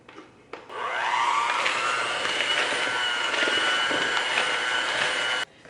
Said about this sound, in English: use an electric mixer rather than trying to mix this all by hand